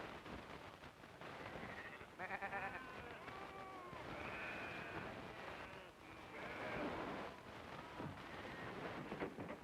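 Sheep bleat repeatedly at a busy sheep station during shearing season, several overlapping calls rising and falling close by over a steady rough background, with some talk mixed in.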